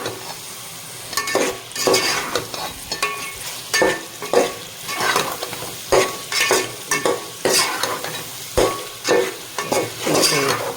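Spices with red chilli and garam masala stirred and roasted in hot oil in a pan, a steady close sizzle broken by repeated rhythmic scrapes of a spoon against the pan, with no talking.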